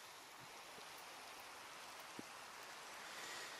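Steady, soft rain hiss falls in the survival game The Crafting Dead, faint and continuous with a couple of small taps and no voices.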